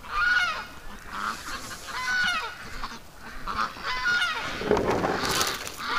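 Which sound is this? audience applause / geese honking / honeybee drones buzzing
geese honking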